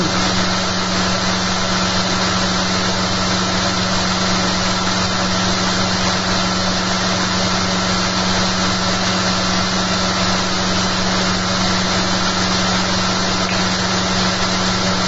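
Electric motor fitted with a new eccentric bobbin and magnet holder, running at about 5,500 RPM on 10.6 volts; a steady, loud, continuous whirring hum with no change in pitch or breaks throughout.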